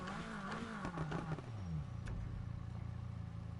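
A V6 car engine in the video game Need for Speed Heat revs and shifts in pitch, then settles into a steady droning hum, with a faint clatter and a brief tick partway through.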